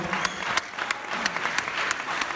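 An audience at the opening gala of a French stage-magic convention applauds, with crisp individual claps standing out over a softer, continuous wash of clapping at moderate distance.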